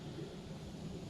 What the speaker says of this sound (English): I hear an airplane going by now.